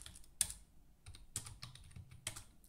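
Keys on a computer keyboard tapped while entering an Excel filter formula, a few quiet, separate bursts of clicks spaced about a second apart, close and alone with no talk.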